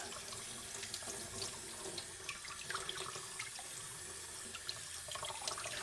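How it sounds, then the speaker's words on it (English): Tap water runs steadily into a sink while something is rinsed under the stream before spinning, a continuous close splashing wash with small irregular spatters throughout and no talking. "So I'm doing is rinsing as best I can"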